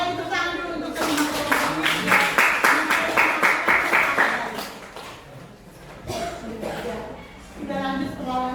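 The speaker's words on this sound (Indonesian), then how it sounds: "Saya tepuk tangan dulu untuk teman-teman." Classmates give a round of applause in a classroom, a burst of lively clapping lasting a few seconds that fades out, followed by a person talking.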